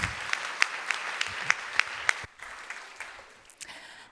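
Audience applause at the Nordic Fe:male Invest Summit 2022, a crowd clapping steadily with sharp individual claps standing out, then tapering off and thinning to scattered claps near the end.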